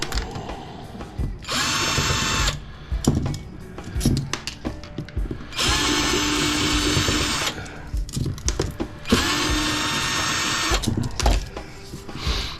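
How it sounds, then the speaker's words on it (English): Screw gun power drill backing screws out of an electric motor casing: three sustained whirring bursts of a few seconds each, close and loud, separated by clanks and handling of metal parts, with no talk. "Use the screw gun, Dennis."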